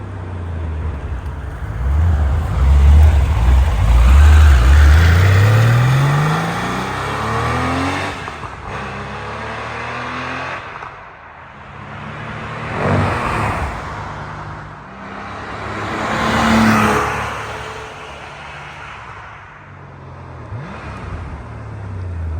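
A 1995 Porsche 911 (993) Carrera RS 3.8 Clubsport makes roadside flybys: a loud engine rises through the gears, then fades and swells again as the car sweeps past twice more, with no talking.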